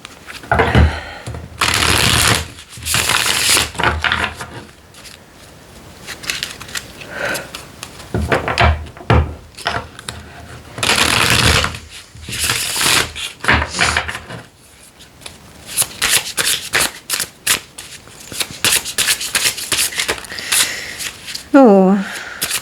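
Tarot cards shuffled for a card reading, repeated riffling and flapping bursts of the deck, close and fairly loud, with a voice speaking between and over the shuffles.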